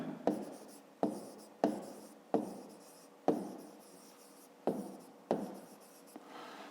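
Pen or pencil writing on paper, a series of about eight quick strokes, each starting with a sharp scratch and fading, close and clear with no talk.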